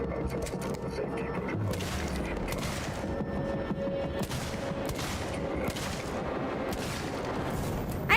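Sustained gunfire in a shooting video game, dense repeated shots and booming blasts rattling steadily for several seconds, loud and close, with occasional talk underneath.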